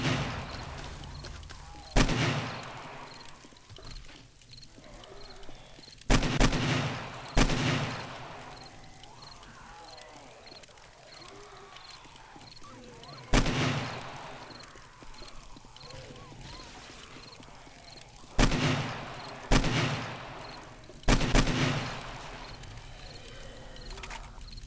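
Several separate gunshot bursts from a zombie-fighting session in the console survival game 7 Days to Die, sounding at irregular intervals over a low game ambience with no talking.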